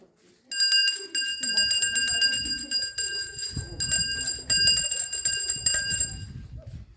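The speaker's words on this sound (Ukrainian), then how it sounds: "Щойно ви всі почули дзвін, але це не дзвінок на урок, а символічний дзвін миру." A symbolic peace bell rings at a school Peace Day event, struck repeatedly with bright, sustained metallic tones. Its ringing continues for several seconds over background chatter and low room noise.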